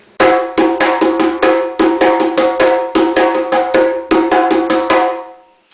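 Djembe parts play together in a busy interlocking rhythm, sharp ringing slaps and tones in quick clusters, close and loud, ending with a decaying stroke.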